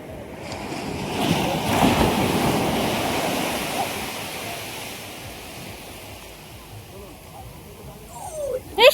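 Ocean waves break and wash onto Shankarpur beach in a loud, broad surge that swells and recedes, with wind buffeting the microphone and voices nearby.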